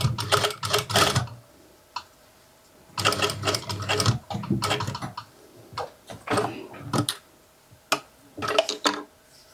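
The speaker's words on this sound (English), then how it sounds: "Back stitch at the beginning and at the end of this seam." A sewing machine stitches a skirt seam in bursts, running forward and back-stitching at the seam's start and end; several close, loud runs of rapid mechanical chatter separated by short pauses.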